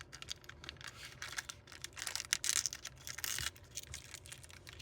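Copper tape is pressed and smoothed onto a DIY electronics enclosure, making faint, close crinkling, tearing and scratchy tapping sounds in quick irregular bursts with no talking.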